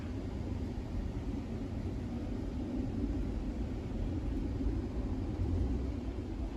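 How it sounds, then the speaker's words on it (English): Aircraft heard as a steady, low, distant roar during windy stormy weather under a shelf cloud, continuous and unchanging throughout with no talk. "Kind of hear a roar. Well, that's not from this. That's actually from the planes."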